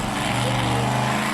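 A two-wheel-drive pulling truck with a 527 cubic inch engine making 2,000 horsepower roars in soft, sandy ground at a pull in Austin, Manitoba, a loud, steady, sustained drone with no break.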